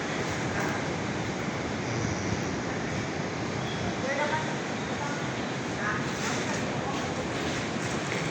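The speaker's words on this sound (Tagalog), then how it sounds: "Dagko kay ang balod karon, no." Big ocean waves crash continuously at a surf beach in Lanuza, Surigao del Sur, under steady gusting wind that blows across the microphone.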